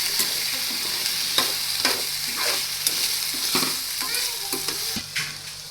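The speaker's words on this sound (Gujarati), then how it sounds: "અને સૌથી પહેલાં આપણે બટેટાને ચડવા દઈશું." Potatoes sizzle and fry in a pan, a steady crackle broken by repeated scrapes and knocks as a utensil stirs them, close and moderately loud, with no talking.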